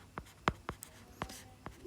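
A marker or chalk writing on a board during a lesson, heard as a handful of short, quiet scratching strokes in an irregular rhythm.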